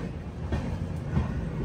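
Inside the moving Visakhapatnam–Kollam Express, a fairly quiet continuous rolling rumble carries occasional faint clacks from the rails, and no voices are heard.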